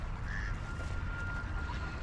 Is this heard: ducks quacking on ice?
yes